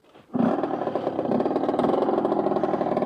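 An Aprilia SX 50 moped with a 50cc engine catches abruptly after a brief quiet moment, then settles into a steady, loud, close buzzing idle with a slightly uneven pulsing rhythm, with no voices.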